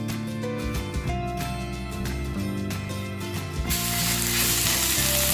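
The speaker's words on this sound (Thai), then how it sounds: "ใส่น้ำมันไปน้อยนะครับ ผัดน้ำพริก" Chili paste stir-fries in a little oil, a continuous close sizzle with scraping and clicking, under a loud steady background of layered sustained tones that swell louder near the end.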